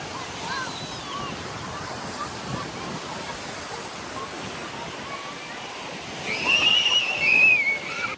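Surf rolls steadily onto the beach at Port Blake Day Park in Grand Bend, a constant wash of breaking waves that swells louder near the end, with a brief high whistle-like tone over it.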